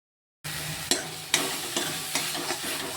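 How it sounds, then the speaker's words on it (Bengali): Spice paste with tomato sizzling in a pan while a spoon scrapes and stirs it in regular strokes, close and fairly quiet. "এই মশলাটা একটু খানিকক্ষণ কষিয়ে নিই।"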